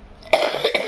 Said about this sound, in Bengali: সরি ভীষণ কাশি হয়েছে।